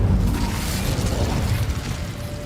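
An Incendio fire spell in Hogwarts Legacy bursts with a loud, whooshing rumble that fades slightly over a couple of seconds, heard without speech.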